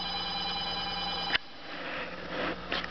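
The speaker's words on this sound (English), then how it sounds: "you can also hear the phone ringing" A telephone rings in a room with saltwater and freshwater hermit crab pools, a steady electronic trill for just over a second before cutting off sharply into quiet room noise.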